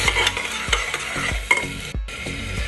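Onion paste fries and is stirred in a pot for beef kacchi biryani, with a loud close sizzle and rhythmic scraping stirs, one brief pause near the end, no voices.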